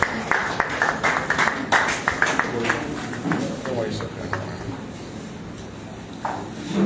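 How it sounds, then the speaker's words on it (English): Scattered clapping from a school debate audience as a student speaker walks up to the podium, moderately loud with irregular claps fading over several seconds. "Give him her rounds of applause as she walks up"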